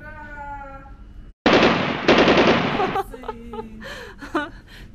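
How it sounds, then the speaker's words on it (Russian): Machine gun sound effect on an amusement ride shaped like a tracked vehicle: two loud, rapid, crackling bursts about a second each, with children's excited voices before and after. "Аня, ты на пулемете, Вероника за рулем."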